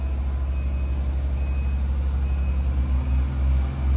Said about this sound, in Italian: Questa è la macchina che rende questo primo tappeto così, con delle forme geometriche rettangolari.